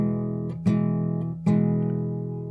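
Acoustic guitar strummed with steady left-hand pressure on chords, giving two long ringing strums that sustain and fade, close and alone without the choppy muted groove.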